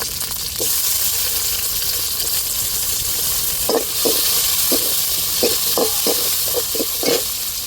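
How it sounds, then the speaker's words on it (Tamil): Chili and tomato frying in hot oil for a South Indian fish curry, a continuous sizzle with repeated sharp scrapes and clinks of a spoon stirring against the pan, close and fairly loud. "இப்போ மிளகா தக்காளி சேர்த்துக்கிடுவோம்"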